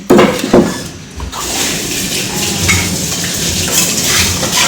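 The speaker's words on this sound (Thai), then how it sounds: "น้ำเดือดแล้วนะคะ เราก็จะใส่ปลาลงไปนะคะ" A couple of heavy thumps and a splash-like rush as fish drop into boiling water, then a steady bubbling, hissing boil with faint clinks of a utensil.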